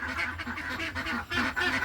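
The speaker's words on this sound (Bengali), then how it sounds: "হাঁসের গোপের ওই ফাঁকা দিয়ে হাঁস দেখতেছে" Ducks quack repeatedly nearby, a string of nasal calls that rise and fall across the whole moment, heard on their own without speech.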